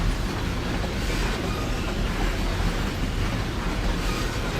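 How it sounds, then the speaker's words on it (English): A train in the Trainz railway simulator game rolls along with loud, steady rumbling from its bogies and faint clickety-clack, continuous and close, with no voices. "you're hearing the transport sounds, but there's an underlying sound that is attached to the bogies"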